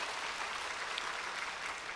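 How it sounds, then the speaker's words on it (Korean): A church congregation applauding, a steady wash of clapping from many hands, moderately distant and fairly quiet, held evenly throughout without a clear start or stop. "하나님께 영광의 박수 올려드렸으면 좋겠습니다"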